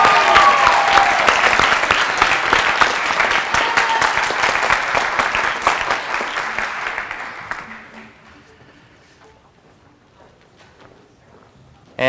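A school spring orchestra concert audience applauds loudly and densely for about eight seconds, then the clapping fades to near silence before a sudden sound at the very end.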